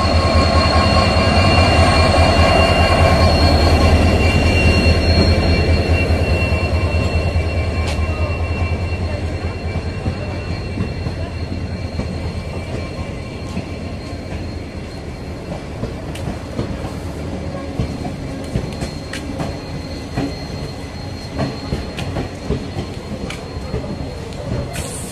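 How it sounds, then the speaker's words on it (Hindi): A train pulls out of Siliguri Junction and rolls along the rails, loud and close at first with a steady rumble and wheel clatter, then easing into quieter rhythmic clicking and squeaks as it moves on. "हमारा ट्रेन जो है वो यहाँ से सिलीगुड़ी जंक्शन से खुल चुके हैं"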